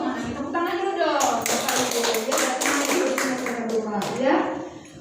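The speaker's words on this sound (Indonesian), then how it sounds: "Tepuk tangan dulu dong" A group at a school parents' meeting claps in quick, uneven rhythm, close by, while voices talk and call out over the applause.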